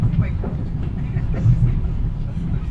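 Electric commuter train running over rails in Ukraine, a loud low rumble heard from aboard with soft rhythmic clicks of wheels on rail joints, and people talking quietly underneath.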